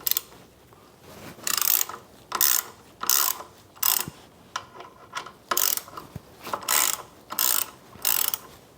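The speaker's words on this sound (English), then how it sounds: "what you want to do is remove these two bolts" A socket ratchet clicks in repeated bursts while two 13mm bolts are loosened on the brake of a Royal Enfield Interceptor 650 motorcycle, close and fairly loud, about a dozen rhythmic ratcheting strokes with brief pauses between them.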